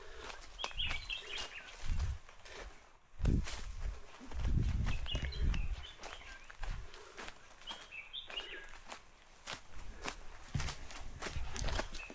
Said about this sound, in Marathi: हे पक्ष्यांचे आवाज